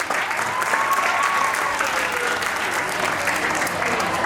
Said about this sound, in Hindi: तो इनके लिए जोरदार तालियां हो जाए